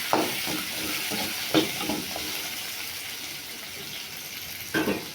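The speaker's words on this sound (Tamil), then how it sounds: "சிவக்க வறுத்துருவோம்." Sliced big onions fry in oil for a fish curry, a soft continuous sizzle with a few distinct stirring scrapes spaced apart, moderately near and fairly quiet.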